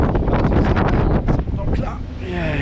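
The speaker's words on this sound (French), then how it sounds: "28 nœuds de vent et ils annonçaient jusqu'à 35-40 nœuds" Strong wind of about 28 knots gusting across a sailboat at sea, a steady loud roar and buffeting against the microphone, with voices talking under it.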